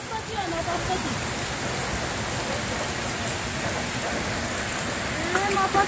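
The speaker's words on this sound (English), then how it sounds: "It's a rainy evening, very beautiful evening, and people running for shelter." Steady rain falls across Hindu temple grounds in Kathmandu on an evening shower, a dense, even hiss of drops hitting surfaces that holds constant throughout with a few louder spatters near the end.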